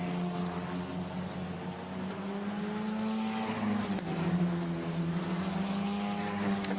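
Formula Renault Eurocup race cars on Hankook tyres weaving through a qualifying warm-up lap at Imola, a steady loud engine drone with rising and falling pitch as cars pass.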